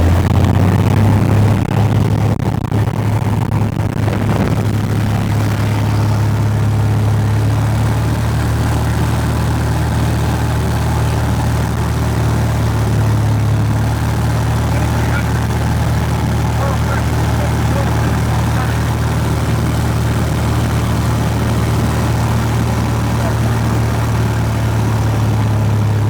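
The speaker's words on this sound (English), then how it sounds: "So now we go full throttle." An aircraft piston engine runs at full throttle during a preliminary run-up, reaching about 2300 RPM. A loud, steady droning roar holds throughout with little change, shifting slightly in pitch early on.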